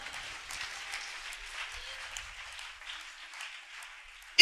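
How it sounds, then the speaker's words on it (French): A church congregation claps for the Lord at a worship service. Steady, moderately distant applause runs throughout and swells into a sharp, loud burst at the very end. "Let's clap for the Lord."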